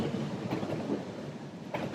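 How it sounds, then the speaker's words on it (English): A train passes nearby outdoors on a muddy day, giving a steady close rumble with faint clicking of wheels on the rails and no talking. "here goes a train"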